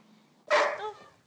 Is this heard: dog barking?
yes